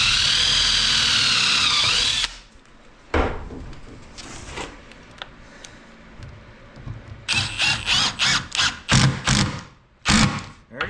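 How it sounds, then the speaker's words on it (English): Power drill counter-drilling into the wood of an Adirondack chair: a loud high whine for about two seconds, then a run of short, sharp bursts and clattering handling noises close by. "finish the counter drill before we go to the bottom with it"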